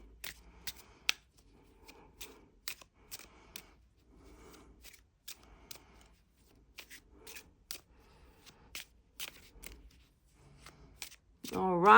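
A deck of cards is shuffled in a series of brisk riffles and taps, followed by a short sharp burst at the end.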